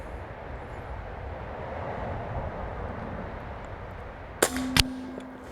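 An Air Venturi Alpha regulated PCP airgun fires pellets: a steady outdoor hiss, then two sharp, close cracks in quick succession near the end, each with a ringing metallic tail.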